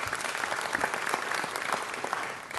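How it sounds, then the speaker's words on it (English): Applause for the city controller fills a city council meeting chamber, steady dense clapping from the room throughout, fading slightly at the end. "Let's give a controller a round of applause."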